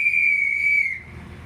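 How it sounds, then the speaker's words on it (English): A station master's whistle at a Serbian railway station, one steady shrill blast held for about a second before cutting off, loud and close over faint background rumble. "Station master here is blowing the whistle."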